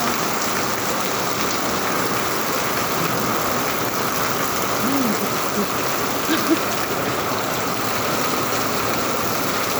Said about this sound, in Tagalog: Yan ang lakas ng ulan.